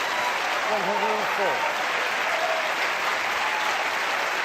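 Loud, steady applause from a snooker crowd celebrating a century break at the World Championship semi-final between Judd Trump and Mark Williams, with a commentator talking over it.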